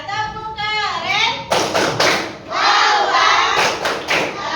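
A class of fifth-grade children performs a rhythmic cheer clap together, sharp clustered hand claps and taps mixed with their voices chanting, with a teacher speaking briefly around it in a classroom.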